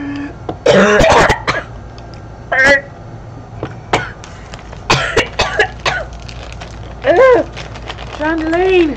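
A man coughs and clears his throat several times in harsh, close bursts, mixed with short voiced noises, while playing Final Fantasy XIV.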